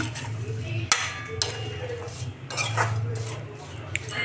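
Kasuri methi being stirred into a raw mango curry in a pot, with a sharp metallic clink of a spoon against the pan followed by softer scraping and clatter, over a low hum.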